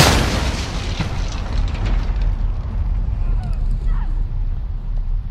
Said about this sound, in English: I'm supposed to throw back the grenade or something